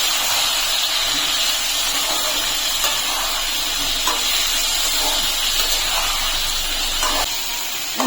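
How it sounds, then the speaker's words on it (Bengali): Ginger and green chili paste sautéing with pumpkin and potatoes in a pan gives a steady, loud sizzle and hiss that carries on without a break, with faint scraping now and then and no talk. "আদা কাঁচা লঙ্কা বাটিটা দিয়ে দিলাম দিয়ে মশলাটাকে ভালো করে সবজির সঙ্গে কষিয়ে নেব"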